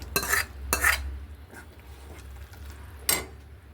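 Sharp metallic scraping and clatter of a spoon against a pan, several strokes in a row, as fried okra is stirred into a simmering gojju sauce, over a low bubble.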